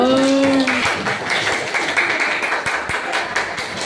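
A classroom of children clapping hands together on the teacher's cue, a loud burst of rapid clapping close by after a brief voice at the start.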